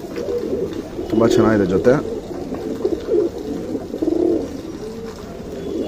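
Mukhi and Guldar Mukhi pigeons, a male and female pair, coo in soft repeated throaty phrases nearby while someone talks over them.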